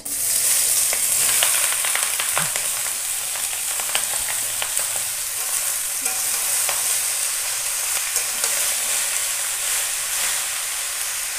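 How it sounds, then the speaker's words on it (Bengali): Bottle gourd pieces sizzle loudly in hot oil with bay leaf, a dense steady frying hiss with occasional stirring scrapes, close and continuous throughout. "এবার লাউগুলো ঢেলে দেবো।"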